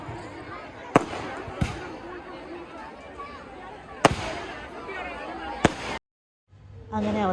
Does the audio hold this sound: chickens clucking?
no